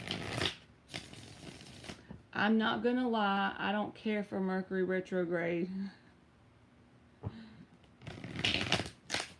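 Tarot cards riffle in noisy bursts at the start and end of a live reading, with someone talking steadily between them.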